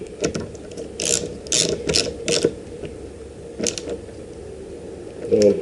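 Ratcheting clicks come from a ratchet wrench tightening a fitting on a 2014 Yamaha YZF-R6 during a Dynojet Power Commander install, in several short bursts of quick clicks with pauses between them, up close and with no talk.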